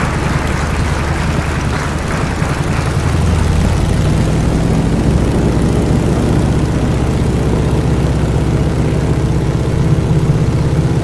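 Vintage propeller aircraft in a flight simulator game on a Papua New Guinea bush strip, engine droning loud and steady, building in power as it begins its takeoff roll, no talk.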